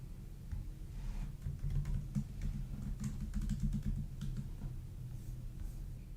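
Steady keyboard typing on a computer while a password is entered to log in, a continuous run of soft, close clicks with no talking.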